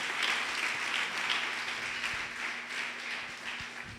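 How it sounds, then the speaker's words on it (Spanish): A church congregation applauding at a worship service: sustained, moderately loud clapping from many hands, spread evenly through the room, with a faint low hum underneath. "Alguien dale un aplauso fuerte al Señor"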